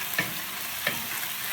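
Pasta and chicken get stirred together in a hot pan over a soft steady sizzle, two quick scraping strokes standing out in a short burst.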